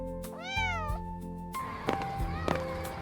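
A cat creeping across a sofa gives a single clear, rising-then-falling meow near the start, followed by quieter, mixed background sounds.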